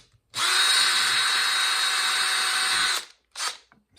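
A power drill with a wood bit, run at high speed, bores into wood, whirring loudly and steadily for about three seconds, stops, then gives one short burst.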